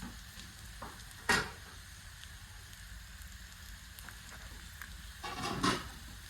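Maggi noodles being stir-fried with their masala in a pan, a quiet continuous sizzle broken by two louder scraping stirs, one early and one near the end, close and with no talk.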